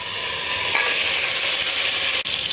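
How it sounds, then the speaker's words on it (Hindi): Ginger, garlic and onion fry in a pan for Hyderabadi chicken tahari, giving a steady, close, continuous sizzle with faint stirring, with no voices. "इसको 5 मिनट फ्राई करूँगी, फिर आप लोगों को बताऊँगी। देखिए अदरक लहसुन नीचे लग रहा, प्याज थोड़ी ही।"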